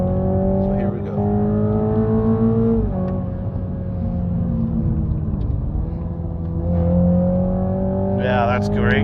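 A Toyota Supra GR 2.0 accelerates on track, engine drone rising through gears with steady pitch climbs and a shift dip midway, heard from inside the cabin and loud throughout, with someone talking over it.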